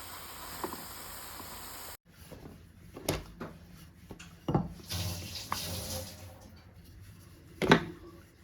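Jamun fruits are washed under running tap water, with irregular splashes and sloshing bursts and occasional knocks in a sink, close and fairly quiet.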